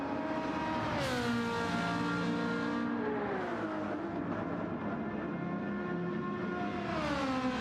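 Ferrari race car engine in Gran Turismo 7 at Yas Marina during a six-hour endurance race, a loud sustained roar climbing through the gears with pitch sweeps and shifts, steady and close throughout.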